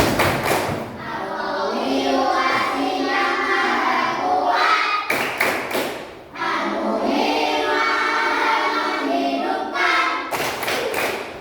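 Children at a school lesson perform a rhythmic clapping chant about the names of Allah, voices chanting together over group claps and thumps, loud and close, with brief sharp bursts of clapping between sung phrases.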